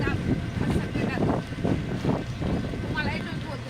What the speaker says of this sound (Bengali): টোটোতে বসে রাস্তায় ঠান্ডায় ফুরফুরে হাওয়া কত সুন্দর লাগছে